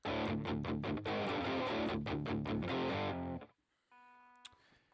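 Electric guitar through a GarageBand Marshall-style amp sim with gain at max, distortion and tube screamer on, chugs dense, loud chords in rapid rhythm before cutting off, leaving a thin ringing note and faint noise.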